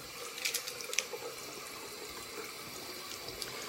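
Lukewarm tap water runs into a sink to wet paintbrushes, a faint steady trickle with a few brief splashy drips early on.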